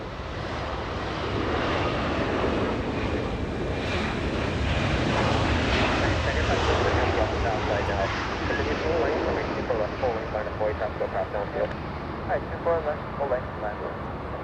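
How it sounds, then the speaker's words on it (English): JetBlue Airbus A320 arriving from San Francisco to land on runway 24 right at Los Angeles International Airport, a loud, sustained jet roar rising and passing close by, accompanied by wind buffeting on the microphone. "JetBlue 535 flying in from San Francisco"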